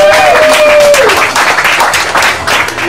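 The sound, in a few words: audience applause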